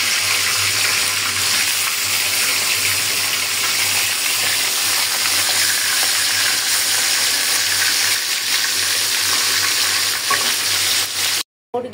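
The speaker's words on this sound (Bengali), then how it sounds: "এখন আমি ভেজে নিব মুরগির মাংসটা।" Chicken meat fries in a pan with a loud, steady sizzle and occasional stirring scrapes, close up and continuous, cutting off abruptly near the end.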